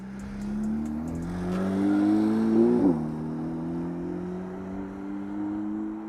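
A Porsche 992 GT3's flat-six engine revs up loudly at close range, its pitch climbing steadily, dipping sharply for a moment, then settling into a sustained high, smooth drone.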